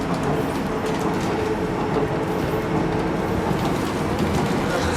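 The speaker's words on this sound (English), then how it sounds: "very bouncy train." A passenger train rolling along its rails, heard from inside the carriage as a steady, loud rumble with rattling and faint clatter throughout, with no clear voices over it.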